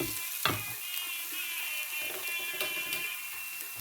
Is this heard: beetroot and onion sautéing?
yes